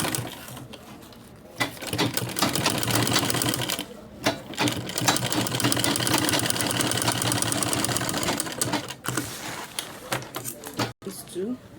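A sewing machine stitches a travel bag in fast, steady mechanical bursts that stop and start several times. A person talks over the sound.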